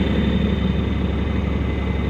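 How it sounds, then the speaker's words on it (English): A tractor engine idles while being set in a low forward gear to hitch a three-point disc mower: a loud, close, steady low rumble with an even mechanical throb and no voices. "Back in the tractor. I want to get it in a low forward gear."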